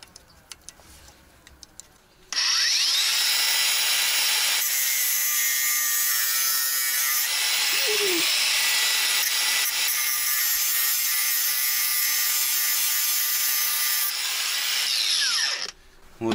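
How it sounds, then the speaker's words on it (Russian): A tube on a Kamaz 4310 6x6 truck is sawn steadily and loudly for about thirteen seconds, a continuous harsh rasp with no talking. "Я пропилил трубку."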